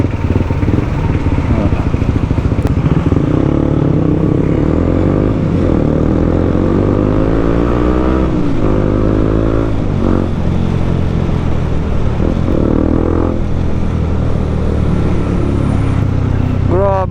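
A Honda CB150X motorcycle engine drones steadily and loudly through Sunday afternoon traffic, with rising and falling rev tones under continuous wind noise close to the rider.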